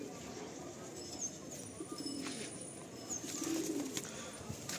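Soft cooing of Kolkata old-line Giribaj pigeons kept for sale, low and murmuring beneath faint background noise, with a few brief chirps.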